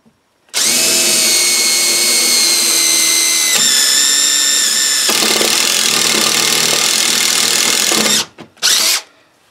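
Step drill bit boring into 1/8 inch aluminum, a loud power drill whine running steadily for about eight seconds with shifts in pitch as the bit bites, then stopping briefly and giving a short final burst.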